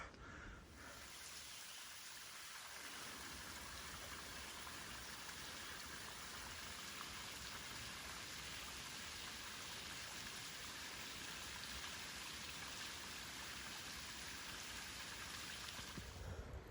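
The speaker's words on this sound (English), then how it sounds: "it's sprinkling a little bit" Light rain sprinkles steadily onto granite and moss on a mountain trail, a soft continuous hiss of fine drops that stays even and gentle throughout, with no voices.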